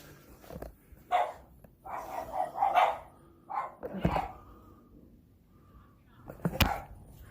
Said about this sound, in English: You can hear the dogs right now.